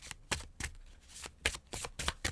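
A first edition tarot card deck is shuffled roughly by hand, producing sharp bursts of riffling card flicks in an uneven rhythm, close and clear with no talking.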